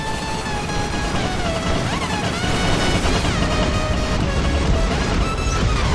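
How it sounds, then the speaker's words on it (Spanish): Dense, continuous gunfire and explosive crashes from a War Robots mech battle game, loud and unbroken throughout with high whining tones sweeping over the barrage. "Había mucho disparo ya donde sea."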